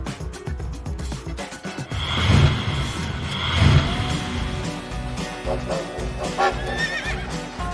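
A horse whinnies loudly twice in close succession, with clip-clopping hooves and snorts around the calls, close and clear over a light background.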